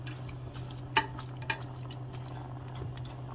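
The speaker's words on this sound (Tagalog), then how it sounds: "Mix natin para mas madaling maluto." A utensil mixes pigeon peas and lima beans in a pot for pinakbet, giving two sharp metallic clinks against the pot and soft scraping over a low steady hum.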